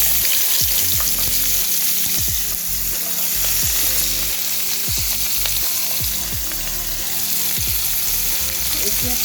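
Sliced onions fry in hot oil with bay leaves and green chillies. A loud, continuous sizzle crackles up close while a utensil scrapes and stirs the pan in a steady, repeated rhythm.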